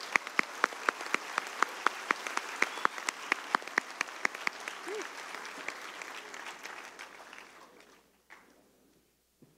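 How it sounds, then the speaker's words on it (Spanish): Audience applause for officials at a government scholarship program event in Chapingo, Mexico, a moderate crowd clapping with distinct individual claps for about eight seconds before it dies away to near silence. "Si podemos darles un fuerte aplauso a las autoridades"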